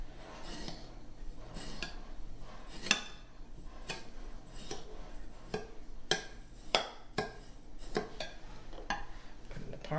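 Spoon scraping and clinking through stuffing mix in a bowl, a quiet, uneven series of close taps and scrapes recurring irregularly with no voices.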